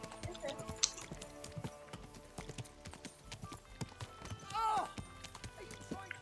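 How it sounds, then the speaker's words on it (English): Horse hooves clip-clopping in a video game, a sparse irregular run of hoof strikes close by, with a short whinny-like call and people talking over them. "É porque eu passei com um cavalo por ele."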